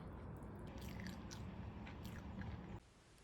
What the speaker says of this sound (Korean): 저녁 먹고 운동 갈 건데 아이고 고구마랑 이렇게 먹어볼게요.